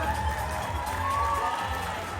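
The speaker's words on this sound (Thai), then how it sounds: "ขอเสียงปรบมือกับน้องลิลลี่และดาภาทองคำครับ" Crowd cheering and clapping at a gala film premiere with a fashion catwalk segment, a steady distant roar of applause and shouts throughout.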